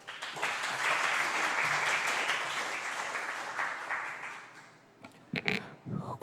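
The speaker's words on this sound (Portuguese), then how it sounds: "Uma salva de palmas para a EBM Adolfo Konder e muito obrigado." Applause at a children's council session honoring the school EBM Adolfo Konder. Steady, moderately distant clapping swells and then tapers off, followed by a few scattered handling knocks.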